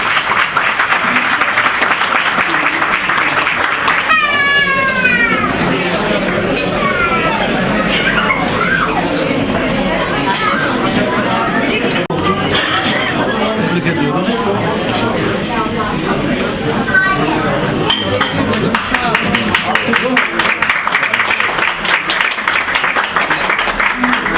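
Audience applause at a primary school event, continuous clapping blended with crowd chatter and loud voices, holding steady across a long stretch.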